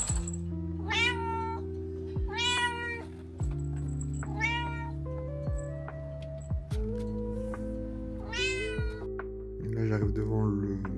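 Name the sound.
cat meowing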